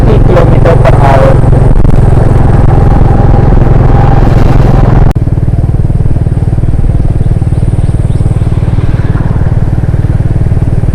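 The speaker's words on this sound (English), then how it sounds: "So he is accelerating the bike and now we are at the speed of 60 km per hour." Motorcycle accelerating along a road at around 60 km per hour, a loud continuous engine drone and wind rumble from the rider's position, steady and heavy throughout.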